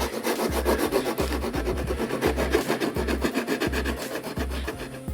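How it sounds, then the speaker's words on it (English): Sandpaper rubs an inlay line flush with the wood on a ukulele body in steady back-and-forth strokes, each pass a close, gritty scrape at an even rhythm. "we can start to just carefully, lightly start to sand that down to the wood."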